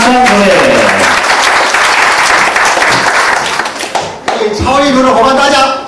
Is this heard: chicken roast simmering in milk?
no